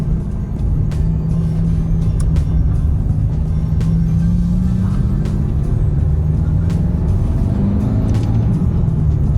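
A Ferrari F430 sports car with a 480 bhp engine heard from inside while cruising on Christmas Eve, a loud continuous low engine drone and road rumble with slowly rising and falling pitch, no talking.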